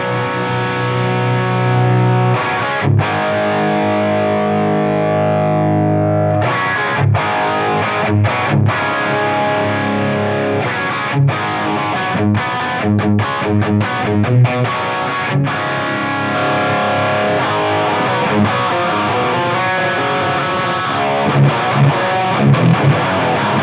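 Electric guitar played through a BOSS OD-200 overdrive pedal in stack drive mode with the boost off and EQ set flat, thick distorted chords ringing out, then choppy staccato riffs with sharp stops, loud and alone.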